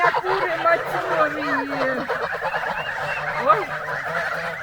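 Geese honk loudly and repeatedly at close range, with a voice talking over them.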